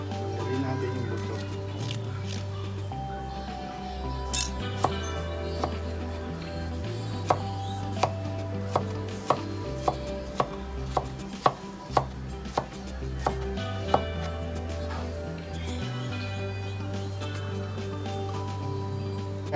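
A knife cuts and chops tanigue fish on a board to take out the bones, giving a series of sharp close taps that cluster in the middle, over a steady low hum with a voice talking underneath.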